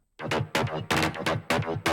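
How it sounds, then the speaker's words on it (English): Random breath-like mallet synth hits in a club track: about six bright, breathy percussive swells in a rapid syncopated pattern, loud and upfront with no talk. "the random breath mallets, they do this shoop"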